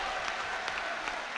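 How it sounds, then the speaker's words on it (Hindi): Audience clapping at a grand mushaira poetry gathering in Indore, a steady wash of applause from a crowd, moderately loud and continuous without any voices over it. "आवेश भाई हमारे लिए ताली बजा रहे हैं"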